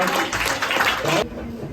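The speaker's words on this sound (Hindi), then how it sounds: "जोरदार तालियां।" Applause from an audience at a school event for students selected to Sainik School in Gujarat, a loud broadband wash of clapping lasting about a second and a quarter, then cutting off abruptly into quieter room sound.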